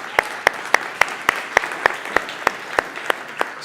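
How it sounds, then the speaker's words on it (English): A conference audience in San Francisco claps together in a steady, evenly spaced rhythm, each loud clap standing out over a low background murmur. "Big round of applause"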